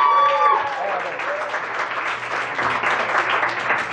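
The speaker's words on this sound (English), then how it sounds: "give yourselves a round of applause if you love the Types" At a youth poetry slam in Tucson, a brief round of applause swells from the audience, clapping densely and steadily after a voice fades out at the start.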